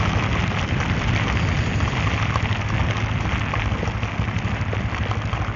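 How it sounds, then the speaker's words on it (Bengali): Heavy rain pours down in Dhaka, a dense and loud steady roar of drops striking surfaces all around, with a faint distant rumble mixed in and no talking. "বৃষ্টি অনেক হার্ড করতেছে"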